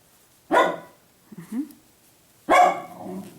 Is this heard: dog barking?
yes